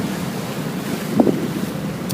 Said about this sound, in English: The waves are rapid